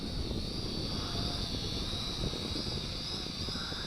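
A JDTOYS JD-10HW WiFi FPV drone hums steadily as it slowly descends in automatic landing, its motor whine constant and fairly loud against a breezy outdoor backdrop, with no talking.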